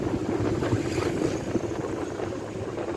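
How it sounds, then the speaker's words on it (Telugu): Sea waves roll in at Shangumugham Beach on the Arabian Sea in Trivandrum, a broad steady wash of surf mixed with wind buffeting the microphone, fairly loud and continuous with no voices. "Arabic see side."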